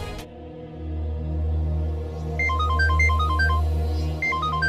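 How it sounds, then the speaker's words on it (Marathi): A phone's electronic ringtone plays a repeating melodic pattern of short beeping notes over a steady low hum, with no voices. "ऋतिकचा फोन."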